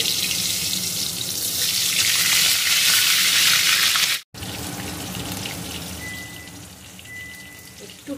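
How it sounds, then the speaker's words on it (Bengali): Potatoes fry in hot oil with a loud, steady hiss and sizzle that cuts out abruptly for a moment before resuming at a slightly lower level, close up and without talk. "আলুগুলো ভেজে"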